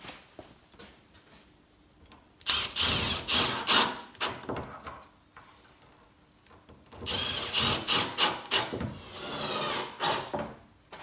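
A screw gun drives screws into a western red cedar hot tub lid in two bursts of whirring, each several seconds long, with quiet pauses between them.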